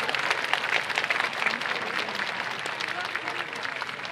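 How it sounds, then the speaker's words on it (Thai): Steady audience applause fills the hall for the performers playing Rama in an international Ramayana stage show, a dense, even wash of clapping lasting the whole stretch without pause. "ขอเสียงปรบมือให้กับพระรามทุกองค์ครับ"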